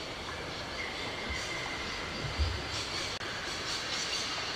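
Train rolling along in the video game Syberia, a continuous rumbling roar of wheels on rails with a brief screech and clatter partway through, steady and fairly close, with no talk.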